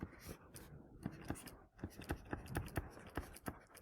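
Pen or pencil scratching across paper while a math solution is written out, with steady close strokes, short taps and scrapes coming in an uneven rhythm and no talking.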